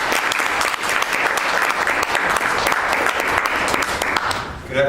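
An audience at a Toastmasters open house meeting applauds, a dense, loud, steady round of clapping that tapers off at the end.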